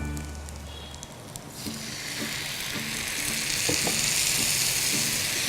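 Stock poured into hot onion-infused oil while braising bok choy: a quiet start rises into a loud, broad, continuous sizzle and bubbling that keeps building, with no talking.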